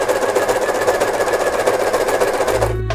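A Jaguar A399 overlock sewing machine runs steadily while sewing an insulated kimono coat, a loud close rhythmic rapid stitching buzz that continues evenly before cutting off at the end, with no talking.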